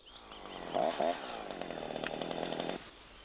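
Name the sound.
chainsaw running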